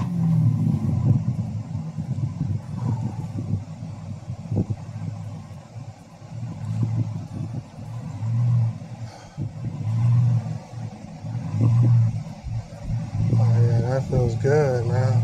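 Modified car engine burbling low with a deep throaty rumble that swells and eases in repeated rev pulses, heard close from inside, with a voice briefly speaking near the end.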